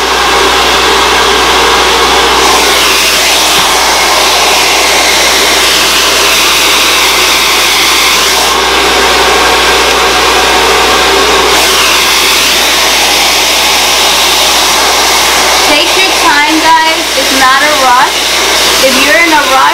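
A handheld hair dryer blows on hair in a steady, loud, continuous whoosh that holds throughout, with a faint wavering near the end; no speech.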